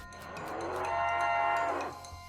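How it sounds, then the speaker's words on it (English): A cow moos in the West of Loathing video game, one long, drawn-out, rising and falling low bellow of about two seconds, clear and alone with no talking. "You're gonna have to deal with this cow if you want to explore the area."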